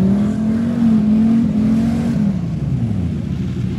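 A battered demolition derby truck, missing a rear tire, revs loudly nearby, its engine note rising, holding, then dropping away over a few seconds.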